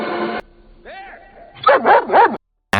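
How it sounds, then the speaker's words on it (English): A dog barks in a tense forest survival setting, a short whine or yelp then a quick run of three loud, close barks with brief silences between, no talk. "Ray hears his dog barking from another part of the island"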